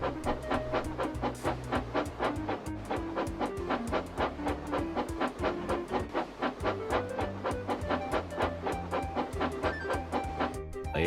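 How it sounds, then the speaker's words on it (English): Two steam engines pull a train up a long hill, their exhausts puffing in a rapid, steady chuffing rhythm over a low rumble and accompanying music, loud and continuous throughout. "the 2 engines puffed together as they pulled the train up a long hill"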